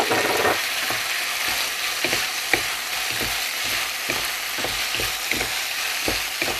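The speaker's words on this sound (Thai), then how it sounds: "ผัดคลุกเคล้าให้เข้ากันให้สตอพอสุกนะคะทุกคน" Stink beans (sator) stir-fried with minced pork in a hot pan, with a loud, continuous sizzle and regular spatula scrapes.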